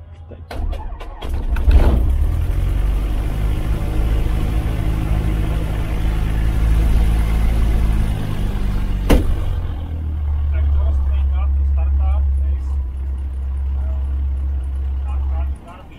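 A Cessna 150 light aircraft engine starting up: a cranking, rising engine rumble catches and settles into a steady low idle that runs on, loud and close, with a brief sharp transient partway through.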